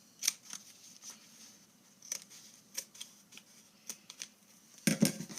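Scissors snip small loose tags of gift wrap paper on a pleated present, faint, crisp individual cuts scattered irregularly across a quiet room, with a louder rustle of paper at the end.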